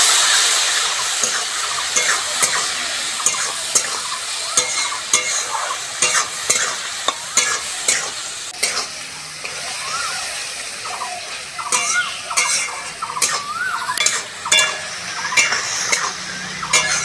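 Masala for a thin Bengali hilsa curry, cooked with green chilli, tomato and coriander and a splash of water, sizzles in a pan while a spoon scrapes and stirs in a steady, close rhythm of knocks over continuous hissing.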